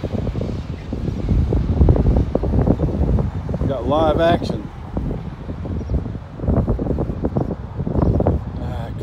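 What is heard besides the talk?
wind noise on the microphone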